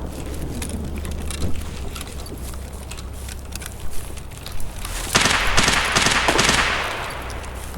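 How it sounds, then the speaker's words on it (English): Gunfire in the video game Escape from Tarkov, a steady crackle of shots running throughout, with a louder, denser burst of automatic fire near the end. "bit of gunshots"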